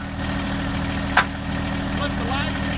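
A John Deere 1025R compact utility tractor idles with a steady low diesel drone, close and constant. A brief sharp click comes midway and faint speech-like sounds appear near the end.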